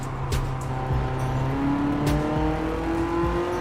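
A BMW Z8 convertible races through the rain in Gran Turismo 7, its engine holding a steady, loud drone with shifting pitch as it revs and changes gear, with tire and road noise beneath and no talking.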